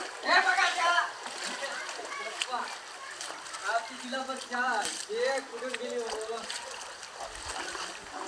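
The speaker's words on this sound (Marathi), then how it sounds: "इथून शाळेमध्ये पाणी घुसलेलं आहे इथून सुद्धा वाहत आहे हे बघा इथून वाहत आहे पाणी" Floodwater flows and splashes into a school whose wall has collapsed, a steady wash of rushing, sloshing water that continues throughout while someone talks over it.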